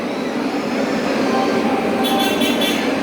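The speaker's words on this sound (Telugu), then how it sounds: "సికింద్రాబాద్ నుండి విశాఖపట్నం వెళ్ళే వందే భారత్ ఎక్స్ప్రెస్ మరొకొద్ది నిమిషంలో ఏడో నంబర్ ప్లాట్ఫామ్ నుంచి బయలుదేరటకు సిద్ధంగా ఉన్నది" A Vande Bharat Express train from Secunderabad to Visakhapatnam stands at platform seven of Vijayawada railway station, giving off a steady, loud broadband rumble, with a few short high chirps near the end.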